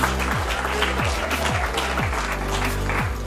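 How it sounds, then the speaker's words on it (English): Audience applause at a book publishing report launch event, a broad steady wash of clapping filling the room for a few seconds while a voice briefly speaks over it. "let's give him a round of applause"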